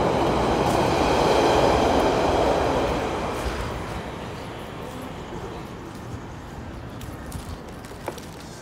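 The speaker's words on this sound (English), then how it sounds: "There's the Greenford train." Greenford train running on the rails, a loud rumbling, rushing roar up close that swells early and then gradually fades as it moves off, with faint clicks toward the end.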